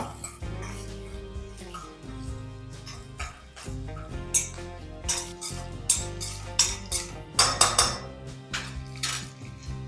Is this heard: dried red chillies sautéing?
yes